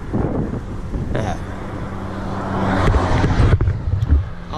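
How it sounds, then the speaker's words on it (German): Wind from behind buffets the microphone while travelling along the Pacific Coast of the USA, a steady rushing roar that swells louder toward the end, with a vehicle rumbling underneath. "Aber zum Glück kommt der Wind von hinten."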